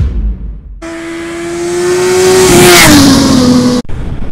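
A BMW S 1000 RR superbike engine revs hard and pulls through a strong acceleration, a loud rising howl with a pitch sweep near the end before cutting off abruptly.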